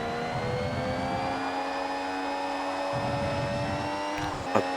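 A Formula 1 car engine in a racing simulator game at Silverstone whines steadily at high pitch, its tone climbing slowly, heard alone with no talk.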